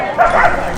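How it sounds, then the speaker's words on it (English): Huskies at a dog show barking and yipping close by, a short excited burst of overlapping yelps in under a second. "Now this is the big dog show, the Husky show."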